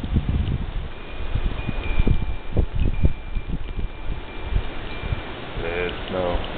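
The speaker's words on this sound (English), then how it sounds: "Wind is still blowing hard." Strong wind of about 50 mph blows during an overnight Long Island snowstorm in December 2010, with heavy buffeting gusts thumping against a close microphone, rising and falling continuously, and a voice briefly heard near the end.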